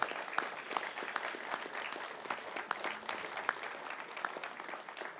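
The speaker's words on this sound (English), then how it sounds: "let's give Ratu a great round of applause" An audience at a showcase event applauds Ratu, a sustained round of dense clapping from many hands at moderate distance, steady in level throughout.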